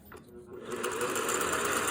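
A Singer 401A sewing machine running a straight stitch through a small piece of purple cloth, a steady, fast mechanical whir that builds quickly and holds loud and close.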